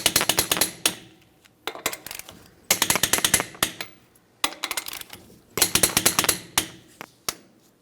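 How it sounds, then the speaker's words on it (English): A torque wrench tightening the lug nuts on a 2015-2025 Ford Transit 250 van wheel to 148 foot-pounds gives bursts of dense rapid ratcheting clicks, four runs in turn with short pauses between them, close and fairly loud with no talking. "Let's go ahead and torque each of these lug nuts to that 148 foot-pounds."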